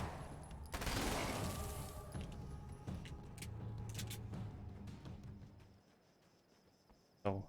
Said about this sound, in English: I have a machine gun.